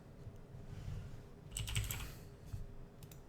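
Computer keyboard typing while playing RuneScape 3, a quiet patter of keystrokes with a brief louder burst of clicks midway and a few isolated taps afterward, fairly close but soft.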